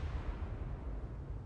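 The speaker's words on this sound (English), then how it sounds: "Explosion." A low, rumbling explosion from the ARK Primal Fear video game rolls on as a dull, muffled boom that stays fairly faint and fills the short moment alone.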